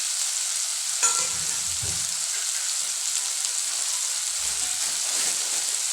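Ingredients sizzle and fry in a pan for a Tamil non-veg Sunday dish, a steady, fairly quiet hiss broken by a few soft clatters of stirring.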